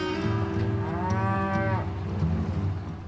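Several cattle moo loudly on a US ranch, one long rising and falling call overlapping deeper lowing from others, with steady farm background noise throughout.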